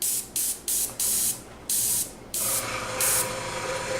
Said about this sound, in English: The air compressor doesn't come on until I start spraying